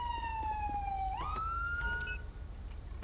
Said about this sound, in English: My siren is going crazy today.